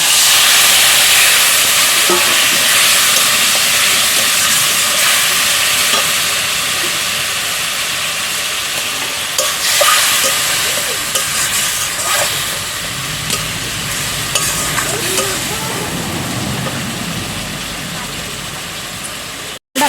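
Spice paste for a Bengali rohu fish curry is sautéed with a splash of water in a pan, giving a loud, steady steamy hiss. The hiss eases slightly over time, with occasional clinks and stirring scrapes.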